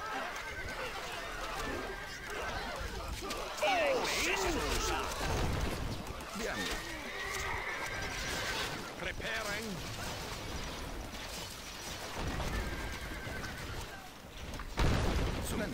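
Horses whinny repeatedly in the strategy game Stronghold Crusader, their rising and falling neighs layered over a busy, rumbling battle din with people talking throughout.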